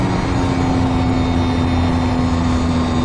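A light aeroplane's propeller engine on long final approach to a runway, a steady loud drone with a constant tone, close and continuous, with no talk.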